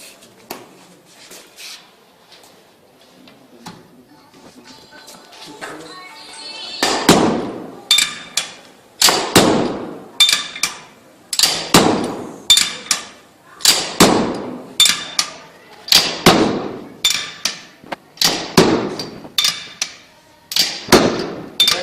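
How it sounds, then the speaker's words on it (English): Heavy hammer blows strike an aggregate sample in an aggregate impact test, a steady series of more than a dozen sharp metallic impacts, evenly spaced and loud, after a quiet start. "Now 25 blows of this hammer we have impact on aggregate sample."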